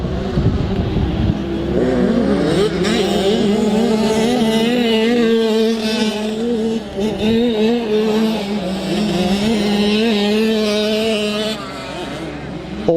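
65cc motocross bikes on the last lap of a race at Lakes, an engine note rising and falling continuously, loud and fairly near, with a commentator talking over it throughout.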